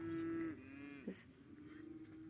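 A cow or calf lets out a drawn-out moo that falls in pitch at the end, followed by softer lowing and a brief bright squawk, heard alone and fairly close.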